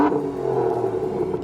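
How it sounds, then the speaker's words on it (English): Aston Martin DB9 with V12 engine and factory exhaust holds a loud, steady, deep engine drone at close range, with no voices. "From factory, the exhaust note is good, giving an inkling to what lies under the hood."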